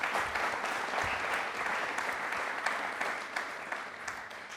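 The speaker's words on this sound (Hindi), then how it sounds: "तालियां प्लीज एक बार जोरदार।" A studio audience at a Republic Day quiz programme breaks into loud, sustained applause that stays dense and steady from start to finish, with no voices over it.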